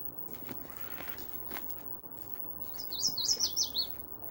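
Canadian birds singing outdoors on a mountain walk: a bright, rapid run of high chirping notes rises near the end over soft rustling footsteps and quiet background ambience.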